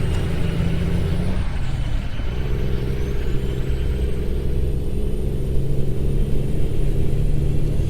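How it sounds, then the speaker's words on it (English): A heavy truck engine lugging at low revs in American Truck Simulator, a steady loud droning rumble with deep harmonic tones and a brief dip, continuous and close. "Maybe I can lug the hell out of the truck here a little bit too."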